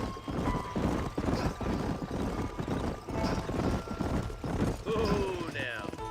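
Steady rhythmic hoofbeats of horses clip-clopping along in Red Dead Redemption on PC, with a horse whinnying near the end and faint voices in the background.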